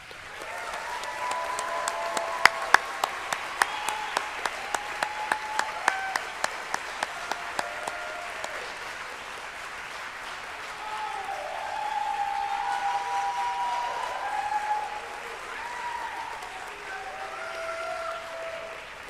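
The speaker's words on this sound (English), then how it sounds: "let's give them another round of applause." Audience applause at a pharmacy school white coat ceremony, a broad wash of clapping with sharp camera-like clicks in the first half, swelling again midway and then tapering as tonal murmurs drift through.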